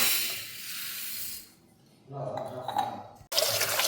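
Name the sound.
washing Sona Masoori rice in water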